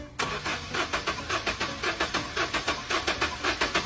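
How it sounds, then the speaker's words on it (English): A car engine that won't start cranks over and over under a starter motor, giving a steady, rapid, evenly pulsing whir with no catch, close and loud, with no voices. "Next, ask the owner to start the car again."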